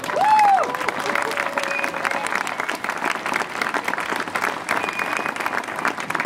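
A crowd applauds steadily and loudly throughout at an outdoor town fair, with a brief whistle rising at the start.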